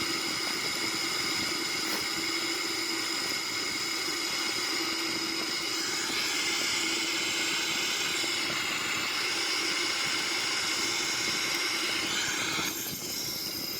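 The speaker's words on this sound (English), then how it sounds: "So here is the climb out for the Boeing 737." Boeing 737-800 climbing out in a flight simulator game, a steady synthetic engine drone with a constant hum and faint shifting tones, ending with a brief dip.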